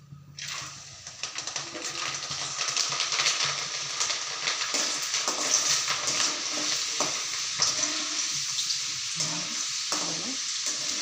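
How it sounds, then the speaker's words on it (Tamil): Chana dal frying in hot oil, a dense, close crackling sizzle that swells after a brief start and holds steady with scattered pops and stirring scrapes, no talk. "இப்போ நம்ம கொஞ்சம் கொஞ்சமாக இந்த கடலைப்பருப்பை எண்ணெயில் வறுத்து எடுத்துக்கலாம்"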